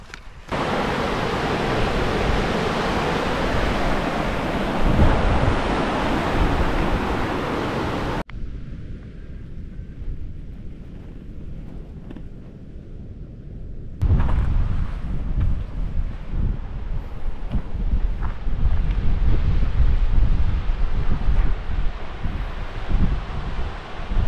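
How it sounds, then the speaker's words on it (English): A raging river rushes along the Laugavegur Trail in Iceland, a loud, steady broadband roar with heavy wind buffeting the microphone, dipping quieter for a stretch before surging back. "there's a raging river here"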